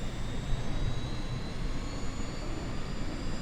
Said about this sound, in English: This plane starting up?